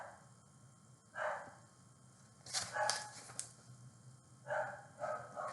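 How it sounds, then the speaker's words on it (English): Dogs barking in short bursts, a few loud volleys spaced apart over a low steady background hum, with no one talking over them. "The dogs, are they bothering you? I'm going to trust they aren't bothering you. Okay. They are loud"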